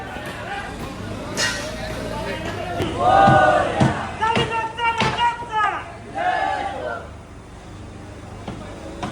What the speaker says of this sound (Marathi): गर्दी बघा किती वाढले भाई